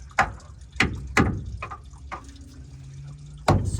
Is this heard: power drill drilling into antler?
no